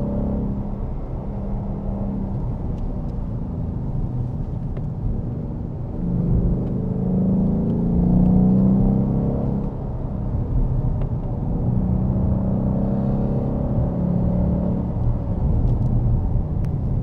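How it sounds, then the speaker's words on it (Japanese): Ford Mustang GT engine shifting down on its own while driving: a steady low rumble heard from inside the car, with the engine note rising and swelling midway before settling back into an even drone. "今なんか自動的にシフトダウンしましたね"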